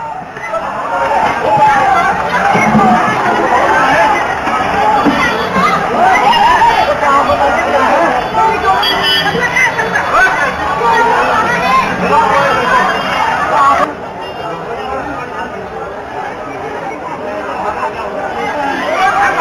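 A dense crowd of people mills about at a metro station just after a blast, a continuous loud hubbub of overlapping chatter with no single voice standing out, dropping slightly in level near the end.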